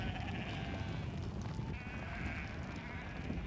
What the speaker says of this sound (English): Sheep on their way to shearing.